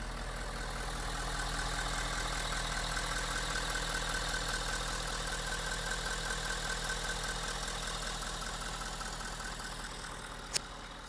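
A bone-stock 2019 Ford F250 King Ranch pickup idles with a steady, even engine hum throughout, close and alone, with one faint click near the end.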